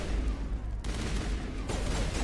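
Gunfire in the Mass Effect video game: dense, continuous bursts of shots running throughout, loud and close, with no voices over them.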